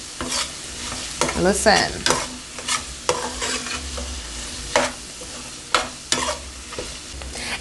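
Bahamian crab and rice being mixed in a pot, a spoon scraping and stirring in repeated short strokes with a faint sizzle, close and fairly loud.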